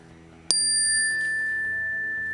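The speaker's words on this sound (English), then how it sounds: "When you hear a bell" A single classroom bell is struck once, sharp and close, in an elementary art class, then rings out with a long, steady, bright tone that slowly fades.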